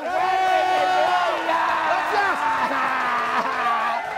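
A studio audience on a Los Angeles talk show cheers loudly, with sustained whoops and shouting voices filling the room throughout.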